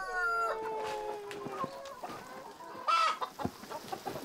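Chickens cluck and a rooster crows inside a coop bedded with peat moss on a mountain farm, several birds calling close by in overlapping bursts with no talk.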